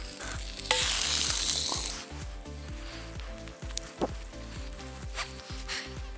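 Deer heart frying in a pan over an open fire gives a steady sizzle with a few brief stirring knocks and a scrape, close and moderately loud throughout.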